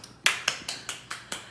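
Six sharp hand claps in a quick, even rhythm, each a crisp close snap that fades fast, with no talking.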